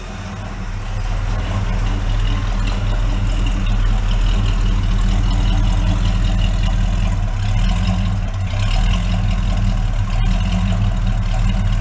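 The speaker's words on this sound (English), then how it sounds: "Let's see what we got for exhaust sound." A 1970 Mercury Cougar, rescued from a scrap yard, idles with a slightly lopey, steady low exhaust rumble that stays loud and continuous with no talking.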